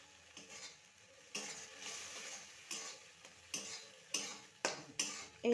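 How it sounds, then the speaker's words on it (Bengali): Cornflour water being stirred into chilli jackfruit in a pan, soft sizzling with repeated scraping strokes of a spoon against metal, close and fairly quiet. "ভালো করে মিশিয়ে নেবে"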